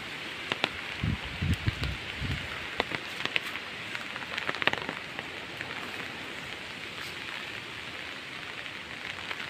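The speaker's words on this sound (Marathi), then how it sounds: "थोडा लागतोय पाऊस" Steady rain patters down with a gusty, rushing wind behind it, a few louder drops and knocks near the start, no voices.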